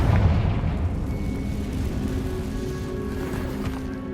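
The Confringo fire spell explodes in Hogwarts Legacy: a heavy, rumbling boom opens strongly, then decays into a long, low roar that slowly fades, with no talk over it.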